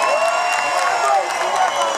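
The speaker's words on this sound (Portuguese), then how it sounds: "Os aplausos aqui!" An audience at a hair-whipping contest with a live band applauds and cheers in a dense, loud, continuous roar of clapping and crowd noise, with faint tonal music running underneath.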